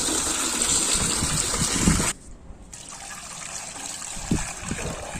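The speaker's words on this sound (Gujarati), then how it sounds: "તો આપણે એક પાણીનો ટબ ભરી લઈએ" Water gushes steadily into a tub set out as a summer drinking trough for animals and birds, a loud continuous pour that cuts off abruptly midway, then a quieter trickle and splashing.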